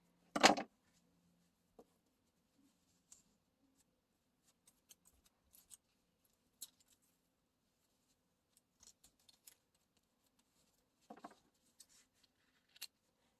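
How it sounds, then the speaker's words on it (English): Scissors snipping ribbon at a paper-crafting table, one short crisp cut near the start followed by a few faint small clicks and handling sounds in near silence, with another light snip later. "My ribbon's a little long. Take and cut it."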